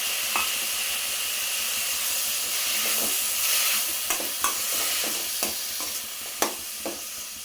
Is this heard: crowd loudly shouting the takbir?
no